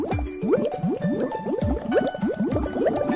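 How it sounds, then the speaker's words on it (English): Cartoonish soap bubbles rise and pop while shampoo is worked over a pet during grooming in an animated video game. Quick, rising, bubbly chirps follow one another in a steady, busy patter, fairly quiet and with no voices. "Oh, look at those beautiful bubbles."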